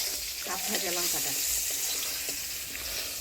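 Green chilies sizzle in a pan alongside frying eggplant in a village kitchen, a steady crackling hiss throughout, with people talking over it.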